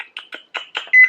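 A home kitchen microwave oven keypad gives a quick run of short, bright beeps as it is set to cook a casserole dish. The last tone is held longer, and the beeps are loud and close.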